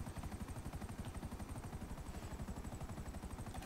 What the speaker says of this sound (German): Wir machen gerade einen schönen Hubschrauber-Rundflug